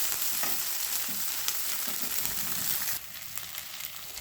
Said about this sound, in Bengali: তো আদাটা আমার ভালো করে দেখো ভাজা হয়ে গেছে।